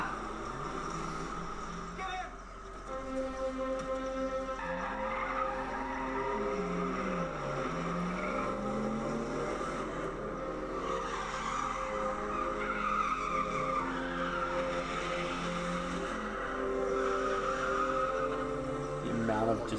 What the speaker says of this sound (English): The amount of just tire screeching is great.